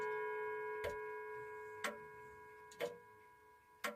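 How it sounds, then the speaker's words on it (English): Small clock chiming four evenly spaced strikes about a second apart, each bright ring decaying over a steady sustained tone, heard alone and fairly soft in a quiet room. "that's the smaller clock there, chiming our way out of this little session"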